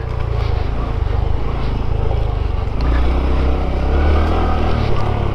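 A Honda Trail 125 motorcycle is ridden, its engine a loud, steady drone mixed with wind rush, lifting slightly in pitch and strength partway through.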